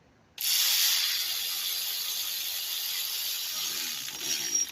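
A small hand ratchet tightens two drive belt tensioner bolts on a 2003-2013 Honda Accord, making a steady, rapid, close-up buzz of clicking that starts suddenly and runs on without pause.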